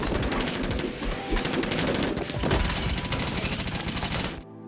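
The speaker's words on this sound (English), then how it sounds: "Preston goes on a rampage with his concealed weapons" Gunfire in a futuristic action movie rampage, rapid dense bursts of automatic shots and crashes, loud and continuous, then cutting off abruptly at the end.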